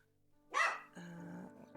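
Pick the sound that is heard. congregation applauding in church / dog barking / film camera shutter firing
dog barking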